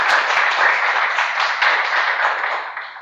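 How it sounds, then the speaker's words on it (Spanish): Loud audience applause for a guest professor at a lecture event, a full, steady crowd clapping close and strong for about three seconds before starting to fade. "Les pido un fuerte aplauso para él."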